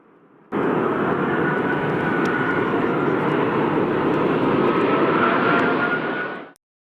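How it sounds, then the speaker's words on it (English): An Airbus A380 performing a go-around, a sudden loud, steady jet roar that starts abruptly, holds for several seconds, then cuts off sharply. "It's definitely rare to get to see an Airbus A380 go around."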